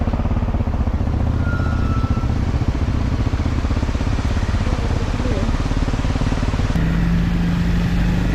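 A motorcycle rides out of Pokhara, Nepal, in the morning, heading toward Jomsom and Upper Mustang. Its engine drones steadily and loudly throughout, with a continuous low rumble and wind noise.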